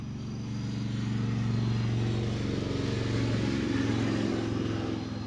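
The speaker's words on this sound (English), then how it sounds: "I'm gonna wait for this fucking motorcycle to pass because it's gonna be loud as shit" A motorcycle passes by outdoors, a steady engine drone that swells in and holds loud for several seconds before easing off slightly.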